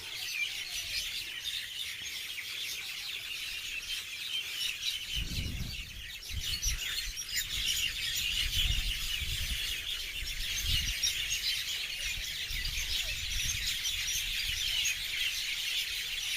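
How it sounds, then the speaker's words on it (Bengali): Many birds chatter and chirp at dusk in a dense, continuous chorus in Bhubannagar village, Kakdwip, with faint low rumbles and thumps underneath and no talking. "পাখির কলরব আরেকটু আপনাদের শোনাই"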